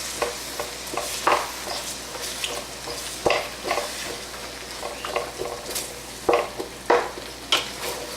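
A spoon stirs and scrapes Swiss steak in a pot, working loose what is stuck to the bottom. Close, irregular scraping strokes sit over a steady low sizzle.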